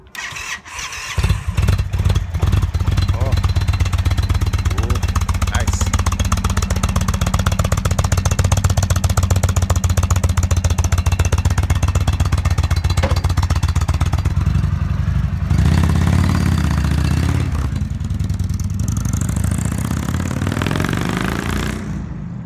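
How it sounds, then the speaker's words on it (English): A 2019 Indian Chieftain Icon Limited motorcycle cranks and fires up, then settles into a loud, close, steady throbbing idle with a deep pulsing rumble that carries on alone, briefly rising in pitch near the end. "So Todd, go ahead and fire this thing up. We'll see what this thing sounds like"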